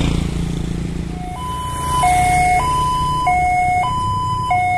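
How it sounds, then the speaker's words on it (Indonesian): An Indonesian railway level crossing alarm at JPL 208, Cikopo, sounding a steady electronic two-tone warning that alternates high and low about every half second, loud and close against faint road traffic, with no talking. "Kamu dengar kan alarmnya seperti apa?"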